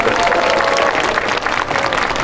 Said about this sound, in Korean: 우리 권성을 미카엘 형제에게 다시 한번 큰 박수 부탁드리겠습니다.